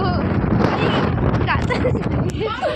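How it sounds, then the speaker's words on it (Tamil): Strong coastal wind roars at the Kanyakumari lighthouse, a loud continuous buffeting rush across the microphone, with people talking and exclaiming over it. "காத்து இருக்குது இன்னும் ஹெவியா அடிக்குது"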